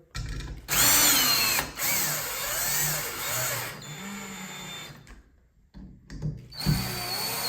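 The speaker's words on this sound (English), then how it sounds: "So now I'm gonna take my screwdriver" A power screwdriver whirs in short, loud bursts while driving screws into a shower handle. The motor speeds up and slows in uneven pulses with brief pauses between runs.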